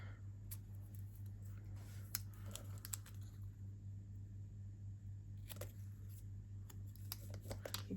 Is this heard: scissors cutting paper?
yes